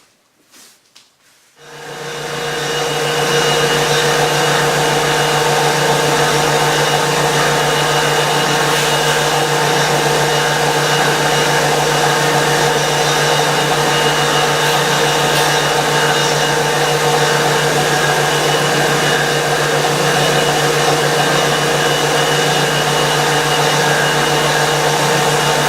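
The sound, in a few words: disc sander sanding guitar side struts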